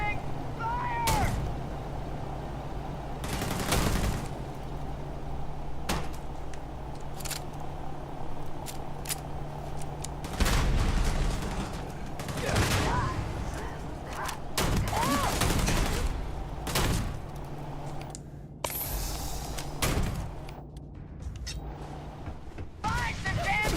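Gunfire in a sci-fi firefight in the video game Starfield, scattered sharp shots and bursts throughout, heard under frequent shouted talk.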